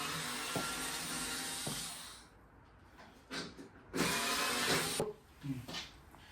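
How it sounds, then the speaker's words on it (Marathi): A large power screwdriver whirs in bursts while a bed is taken apart in a home during a move, starting with a sustained run and then several shorter spurts, fairly close but modest in level. "सो बेड डिस्पेंडल करतोय"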